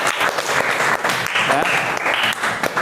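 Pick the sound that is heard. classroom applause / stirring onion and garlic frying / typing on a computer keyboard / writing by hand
classroom applause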